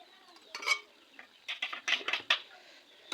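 Radish pieces are stirred into fried onion, ginger and garlic in a pan, producing several short, close scraping and clattering strokes of a utensil with brief pauses between.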